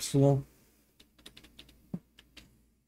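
Keys clack on a computer keyboard in a quick, uneven run of soft taps while a Python file is being written, close by, after a brief voice at the very start.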